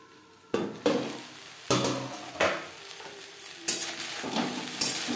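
Drumstick flowers fry in a pan with a steady sizzle, while a utensil stirs them in several sharp scraping bursts against the pan, with no talk.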